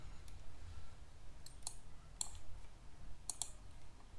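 A computer mouse clicks a handful of times, sharp, quiet taps in small clusters over a low room hum, with no speech.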